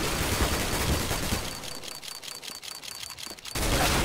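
A CS:GO case opening spins with a quick run of evenly spaced, crisp ticks that sound close and clear, framed by louder game and room noise before and after.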